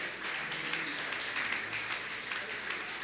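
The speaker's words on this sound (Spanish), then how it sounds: "¿Cuánto le dan un aplauso al Señor?" A church congregation applauding at an evangelistic campaign service, a steady, fairly faint wash of many hands clapping with no breaks across the whole stretch.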